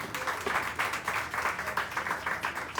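A small live audience at an evening show claps for a prize winner. The applause is fairly faint but steady, with a loosely rhythmic patter of hands.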